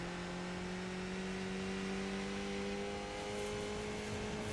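A race car in the iRacing sim game accelerating on the Okayama track, its engine tone climbing steadily in pitch as it pulls down a straight, a continuous mechanical whine and drone with no talk.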